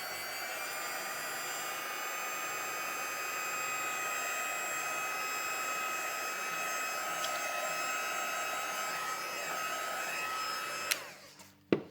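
Heat embossing tool blowing a steady, loud whirring hiss over stamped ink on paper, running continuously for about eleven seconds before cutting off with a few small clicks and knocks.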